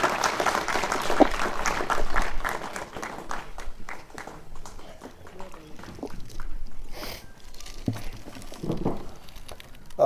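An audience claps loudly at a retirement function for Master Ali Shan Khan in Rajouri; dense clapping opens the stretch, then thins and continues beneath a voice.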